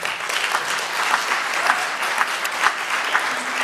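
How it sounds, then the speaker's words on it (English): Audience applause at a climate justice dialogue event, a sustained, even round of clapping from a sizable crowd, loud and close throughout. "think another round of applause"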